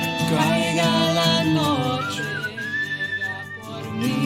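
A tuneful whistled melody in the Where the Water Tastes Like Wine video game, clear and fairly loud, carried over a musical backing with wavering sustained notes.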